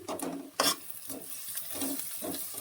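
Crushed cinnamon added to a hot pan of oil, giving a close, steady sizzle with a few brief stirring scrapes and clinks against the pan.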